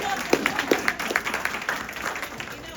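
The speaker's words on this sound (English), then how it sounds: "Yes, let's clap." Scattered audience clapping at a school board candidate forum, with a handful of distinct, sharp claps standing out from a thin, uneven patter while voices murmur underneath.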